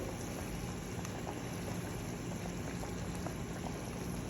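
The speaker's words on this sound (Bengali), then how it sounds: "দেখেন একদম ঝোলটা ফুটে উঠেছে" Curry broth for koi fish with lentil dumplings boils in a pot, giving a steady, even bubbling and hissing that stays close and fairly soft throughout, with no voices.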